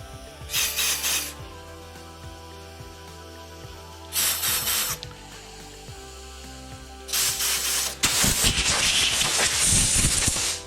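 Compressed air blowing out bolt holes on a Subaru 2.5 engine, several loud hissing bursts with pauses between, the last long burst roaring and sputtering, close by.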